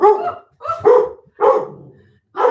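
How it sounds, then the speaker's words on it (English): A dog barks indoors in several loud, close bursts with short pauses between them, with no talk over the barks. "That's the dog barking."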